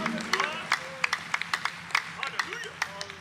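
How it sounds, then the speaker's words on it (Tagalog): Crowd at a Sunday worship service in Marikina Sports Center claps loudly, rapid overlapping handclaps filling the room while a voice carries on over the clapping. "Isang malakas sa palakpak sa mahal na Panginoon."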